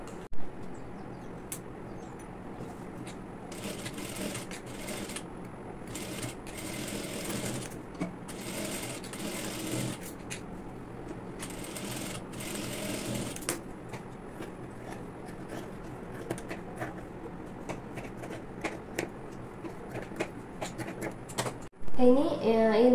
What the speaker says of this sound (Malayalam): ഇനി ബാക്ക് പീസും ഇതേ രീതിയിൽ തന്നെ സ്റ്റിച്ച് ചെയ്യണം.